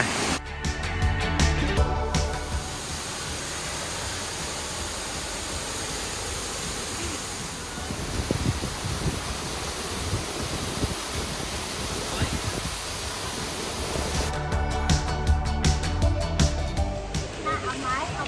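Waterfall at Phlio Waterfall in Chanthaburi, a steady broadband rush of falling water running throughout, with people talking over it at the start and end.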